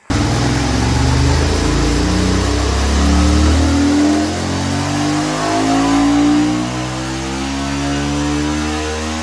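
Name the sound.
motorcycle engine revving with exhaust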